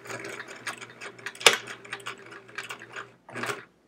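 A sewing machine stitching binding onto a Splendid Sampler quilt, quiet uneven mechanical whirring and ticking with one sharp click, stopping briefly before a final short run of stitches.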